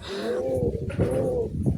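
Jacobin and cappuccino pigeons in a large breeding cage give low, throaty cooing that rolls on continuously and close by for the whole moment.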